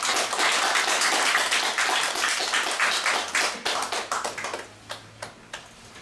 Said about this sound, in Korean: 큰 박수로 맞이 주세요